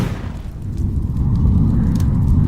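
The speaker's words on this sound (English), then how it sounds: "Big alchemy explosion." An alchemy jug explodes into fire, a deep, rumbling boom that swells and keeps roaring low and loud for a couple of seconds.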